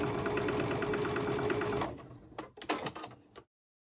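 Close sewing machine stitching pieces of quilting fabric, running steadily for about two seconds, then a few short bursts and clicks before stopping.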